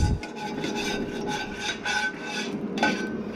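A utensil scraping the bottom of a cooking pan while making a southern breakfast, a run of quick rasping strokes, close and moderately loud, with no talking.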